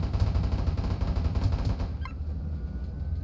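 Rapid automatic gunfire from an aircraft strafing a Tarantula in the Nuclear Option combat flight game, a dense rattling burst running steadily and then thinning out toward the end.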